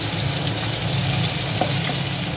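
Prawns fry gently in hot oil in a pan, giving a steady, dense sizzle close by that runs throughout without pauses or talking.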